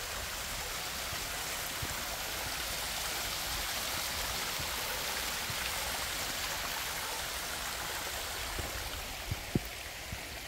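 Stream water flowing at the Upo wetland: a continuous, even rush of running water filling the whole stretch, with a few soft knocks near the end and no talking.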